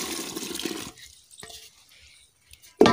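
Water poured from a container onto the base of a tamarind tree gives a splashing gush that stops after about a second, followed by near silence with small drips and a sudden loud noise at the end.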